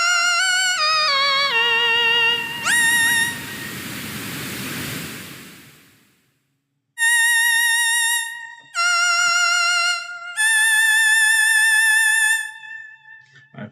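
Electronic synthesizer lead in a theremin-like sci-fi style, gliding pitches and wavering vibrato tones, a swooping rising sweep over a noise wash, then several sustained warbling notes in separate bursts, loud and alone.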